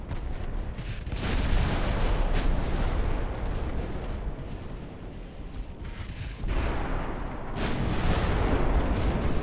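Naval guns on 1890-era warships firing in Ultimate Admiral: Dreadnoughts, heavy deep booms rolling over one another into a sustained thunderous barrage, loud and close.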